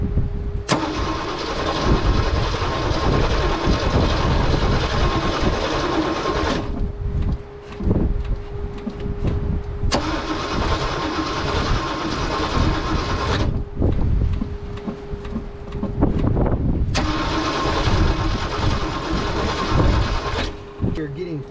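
A Jeep CJ-5 engine cranking after years of storage, three long bursts of loud, steady starter churning separated by pauses, with a voice talking in between.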